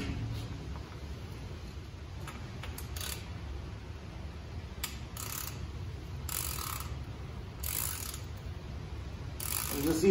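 A hand tool turning a bicycle bottom bracket on a Canyon Endurace AL 7.0, faint ratcheting clicks in short bursts, quiet and close with soft background noise.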